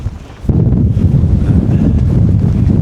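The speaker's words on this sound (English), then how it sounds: "It's definitely a bit windy, as you can see. Taking a bit of a battering at the moment." Strong wind on a Dartmoor hillside buffets the microphone, a loud, continuous low rumble that swells sharply after a half-second and stays steady throughout, with no talking.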